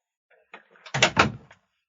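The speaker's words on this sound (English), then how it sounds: "Don't open the door." A door opens indoors in a family home: a faint click, then two loud, close clunking thumps about a quarter-second apart, followed by a short trailing rattle. No one speaks.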